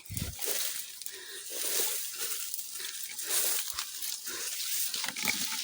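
A pig grunts and snorts in a steady, broken rhythm, fairly close, over a constant hiss of background noise, with no talk.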